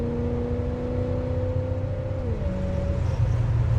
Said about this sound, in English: see what this old 350 4-barrel's got